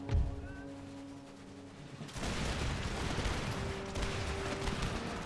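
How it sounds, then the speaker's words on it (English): Enemy gunners fire a musket volley in the Empire Total War battle game, a dense crackle of overlapping shots that rises suddenly midway and then rolls on as sustained noisy battle din. "Didn't kill anybody with that volley"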